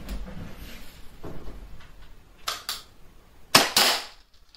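Tokyo Marui airsoft gun shots strike an electronic target, heard as a few sharp, close snaps spaced over a few seconds, with the last pair loudest.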